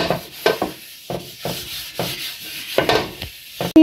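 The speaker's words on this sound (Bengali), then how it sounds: "তেলটা আমি টিস্যু দিয়ে ভালোভাবে তাওয়াতে লাগিয়ে দেব।" Tissue paper wiping a few drops of oil across a tawa griddle set on a stove, making soft, intermittent scrubbing and rubbing strokes in a close-up, broken by brief pauses.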